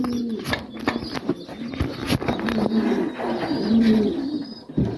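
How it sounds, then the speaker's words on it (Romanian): A racing pigeon coos at its loft after returning from a 135 km training flight from Garoafa; repeated soft, throaty coos roll one after another at close range over steady background noise. "Avem și primul porumbel sosit"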